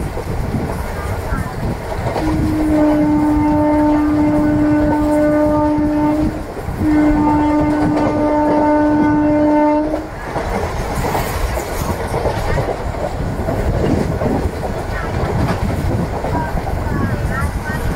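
Express train 17231 running through Pennada Agraharam station at speed, with a loud sustained two-part horn blast over constant rumble and wheel clatter, heard close from onboard.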